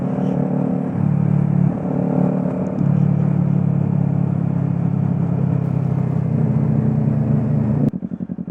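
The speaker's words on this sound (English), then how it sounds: "God, that bike sounds good." A motorcycle engine drones loudly and steadily on a group road ride, shifting pitch as it rolls on the throttle, then cuts abruptly near the end.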